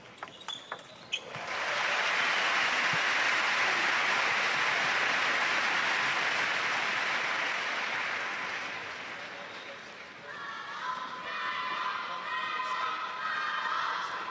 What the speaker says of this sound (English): You can hear that crowd shouting for table one, T-Mobile.